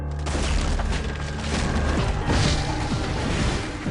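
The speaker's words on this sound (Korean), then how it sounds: "가스가 폭발했습니다." A gas explosion in news footage fills the whole clip, a loud sustained roar of booming blast and crashing debris that stays dense and heavy throughout, with no voices.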